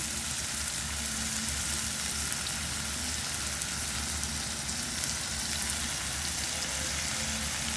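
Tomatoes with salt sizzle steadily in a hot pan, a dense, even crackle of frying with light stirring scrapes, close and continuous with no talking.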